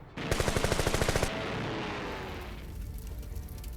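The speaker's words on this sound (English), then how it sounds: "it's those machine guns that were the real aircraft killers on the day" Machine gun fire from the Battle of Midway in 1942, a rapid burst of about a dozen evenly spaced shots lasting about a second, followed by a rumbling, fading roar.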